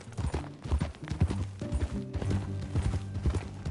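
Horse hooves clip-clopping in Red Dead Redemption 2, a quick, close, irregular patter of hoofbeats on hard ground heard alone and fairly loud.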